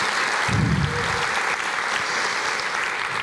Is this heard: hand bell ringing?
no